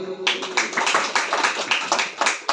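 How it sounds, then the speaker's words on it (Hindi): Audience at a Brahma Kumaris gathering in Tarn Taran, Punjab clapping together on cue, a steady run of close, uneven hand claps over about two seconds after a brief voice at the start. "एक बार ताली बजाओ सभी।"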